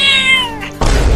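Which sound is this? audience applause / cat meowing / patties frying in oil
cat meowing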